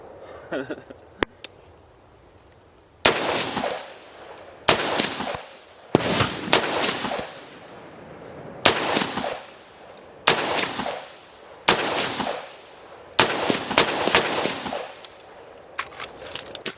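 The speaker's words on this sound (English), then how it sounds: "So you might be able to tell how well this muzzle brake helps reduce recoil." A Ruger AR-556 rifle fitted with a muzzle brake fires about eight loud, sharp shots at roughly even intervals outdoors, each crack followed by a short decaying echo.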